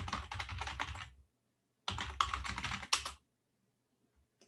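Quick bursts of close keystrokes on a computer keyboard as a passphrase is typed, two clusters split by silence, fairly quiet overall.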